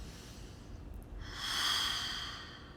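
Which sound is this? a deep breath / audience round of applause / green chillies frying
a deep breath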